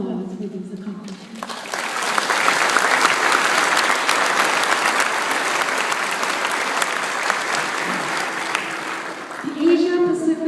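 A legislative audience applauds during the Senate President's address in Hawaii, a dense, loud round of clapping that swells and holds for several seconds, with the speaker's voice just before and after it.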